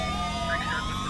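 An ambulance siren in the video game GTA 5 wails steadily and loudly throughout, with engine and traffic noise underneath.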